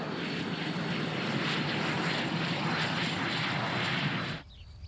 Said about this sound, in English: This is the fighter plane that could have changed the course of history.